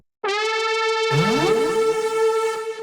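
Two synth leads stack together, one entering first as a steady bright tone, then a second layer joins with a gliding, rising sweep beneath it.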